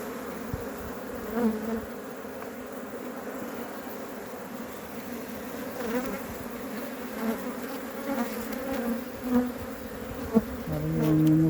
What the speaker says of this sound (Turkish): Evet, tabii arı biraz agresif.